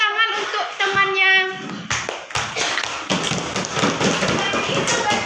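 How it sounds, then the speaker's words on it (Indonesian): Children in a classroom break into a burst of clapping, a dense run of sharp hand claps close by that keeps going for several seconds after a voice speaks briefly at the start. "beri tepuk tangan untuk temannya"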